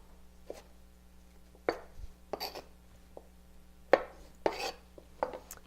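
A knife dicing vegetables, green onion among them, on a cutting board while preparing kale salad; sharp chopping strikes come in irregular clusters, fairly close and clear, over a steady low electrical hum.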